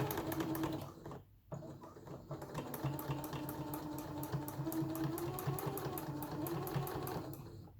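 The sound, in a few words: sewing machine stitching a fabric face mask seam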